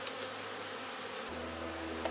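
Honey bees buzz inside a hive with no capped brood, a steady faint droning hum that continues unbroken throughout.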